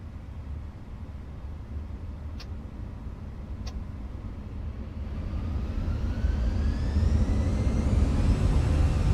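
An Airbus A320 in Microsoft Flight Simulator 2024 begins its takeoff roll, with a steady low engine roar that swells louder and fuller while a rising whine climbs in pitch. Two faint ticks come early, and nobody speaks.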